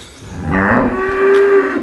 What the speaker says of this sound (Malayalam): ഇതാണ് അനൂപ് എന്ന് പറഞ്ഞ ആ ഒരു ക്ഷീരകർഷകൻ്റെ വീട്. ഇതാണ് അദ്ദേഹത്തിൻ്റെ തൊഴുത്തും.